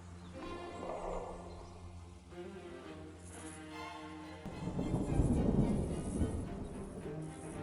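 Low rumbling thunder from an autumn storm in an African rainforest rolls in over a steady wash of ambient sound, swelling louder in the second half, with faint tonal background music throughout.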